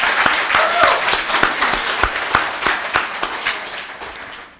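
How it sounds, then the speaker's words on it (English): A crowd at a candidates' debate applauds throughout, a dense steady clapping with some sharper individual claps standing out, fairly loud and close. "I would like us to give our candidates the applause"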